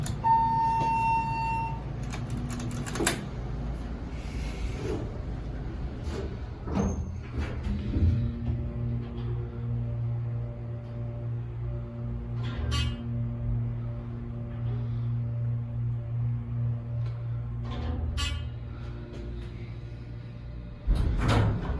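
Dover Impulse hydraulic elevator at a hotel: doors slide with soft thumps, then a low steady hum of the car travelling, with a few clicks and door movement near the end, faint and close.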